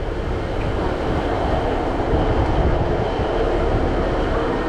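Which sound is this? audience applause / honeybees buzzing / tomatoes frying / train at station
train at station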